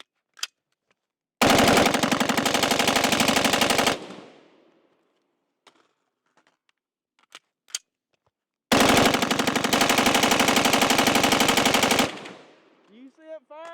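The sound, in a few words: PWS MK111 Mod 2 rifle firing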